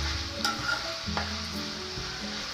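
Broad beans frying in a pan and being stirred, a steady dense sizzle with a few scraping strokes of a spoon, close and continuous, with no voices.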